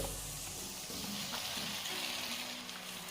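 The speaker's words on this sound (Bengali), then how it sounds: "এবারে এতে দিয়ে দিচ্ছি ভেজে রাখা ওলকপি ও আলুর টুকরোগুলো" Fried kohlrabi and potato pieces drop into hot spice masala, and a loud, steady sizzle and hiss of frying carries on throughout with small stirring shifts.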